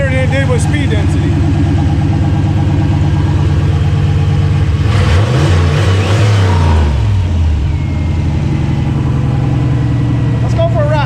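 The turbocharged engine of a Junkyard GT40 build runs steadily while warming up, a close, loud, droning idle with a brief rise in revs midway, as a person talks over it.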